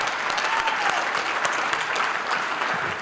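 An audience at an activist award ceremony claps in dense, steady applause that stays loud and even throughout.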